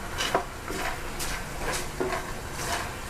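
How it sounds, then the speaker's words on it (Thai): Soft scraping and clinking of a utensil in a pan as aromatic spice paste is stir-fried for braised pork ribs, repeated light strokes against a faint sizzle, close and quiet. "อันนี้คือตั๊กขอผัดเครื่องให้มันหอมก่อนค่ะ"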